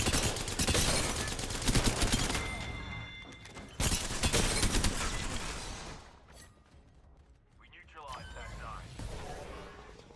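Gunfire erupts at a base in Apex Legends, with dense, loud bursts of shots that ease off into quieter scattered fire and then pick up again.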